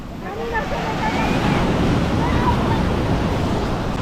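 Ocean surf breaks steadily on a Cancun beach in Mexico, a continuous loud roar and wash of waves with wind buffeting the microphone throughout.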